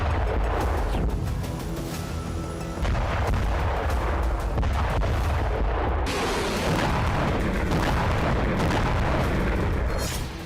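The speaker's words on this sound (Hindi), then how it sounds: "रूस की धरती पर एक के बाद एक कई धमाके हुए" Repeated explosions from a Ukrainian drone and missile strike on Russia, heavy booms and blasts following one after another in a loud, continuous barrage, with no voices.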